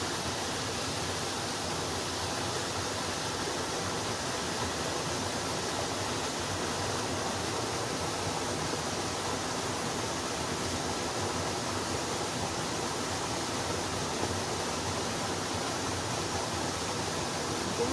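A forest stream runs high after two nights of rain, giving a steady, even rush of flowing water that stays faint and distant, with no voices.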